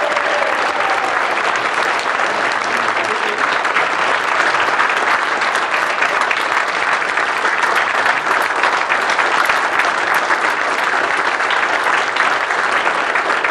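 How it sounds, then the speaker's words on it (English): Large crowd at Blackpool Football Club applauding Labour leader Jeremy Corbyn at a campaign event, loud sustained clapping that holds steady from start to finish. "please can we have a big round of applause for our great leader,"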